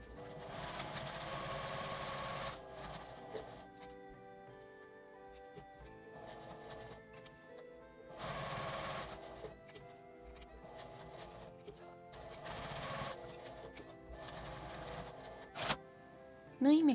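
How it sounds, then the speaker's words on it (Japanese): A home sewing machine stitches fabric for a transparent face mask, producing a quiet, close mechanical whir with rapid ticking that starts and stops in several runs of a few seconds each. "クリップで留めてぐるりとミシンをかけます。"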